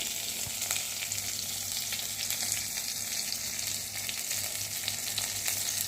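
Curry leaves fry in hot oil, giving a continuous, even sizzle and crackle up close. The hiss holds steady throughout with no voices over it.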